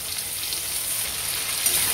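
Spice paste with cumin and coriander powder sizzles steadily in hot oil while cooking down for a bottle gourd and crab curry, a close, even, continuous frying hiss with no talking.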